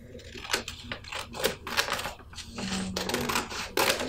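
Scissors cut through paper number cards in a run of close, crisp snips, irregular but rapid, over faint room noise and without speech.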